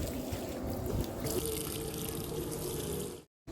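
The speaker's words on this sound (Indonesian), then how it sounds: "Tidak lupa setelah penanaman ini kita siram." Water pours and trickles steadily onto newly planted celery in a home-scale organic garden, a continuous close splashing flow that stops abruptly near the end.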